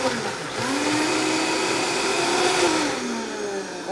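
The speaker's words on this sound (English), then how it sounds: "we're adding the shallot and we're going to blend this up" A blender whirs through avocado vinaigrette with shallot added, a loud, steady motor roar filling the whole few seconds, its pitch swelling slightly midway before settling.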